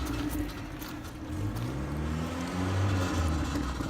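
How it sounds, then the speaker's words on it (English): An old Land Rover engine rumbles steadily in the background, a low droning motor that rises and falls slightly as it labors along. "That's an old Land Rover doing its best to move in the background."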